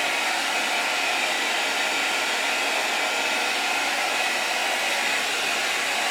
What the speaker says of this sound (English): For so far, blow drying.